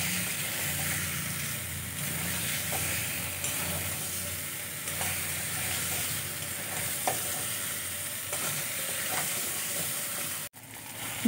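Eggs being stirred into frying masala in a pan with potatoes, a steady close sizzle and hiss with intermittent scraping and clinking of a spoon against the pan, continuous with no talk.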